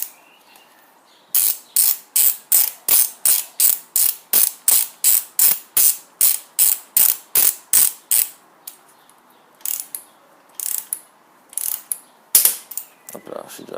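Ratchet wrench tightening the front wheel bolts of a motorcycle, a steady run of about twenty crisp close clicks in even rhythm, then a few sparser, irregular clicks after a pause.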